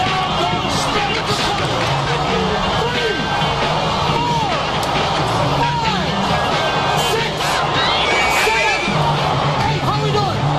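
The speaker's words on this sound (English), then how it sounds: "This crowd is aghast." A boxing arena crowd erupts after a knockdown of Spinks by Judah, a loud sustained roar of shouting spectators filling the space, with an announcer talking over the din.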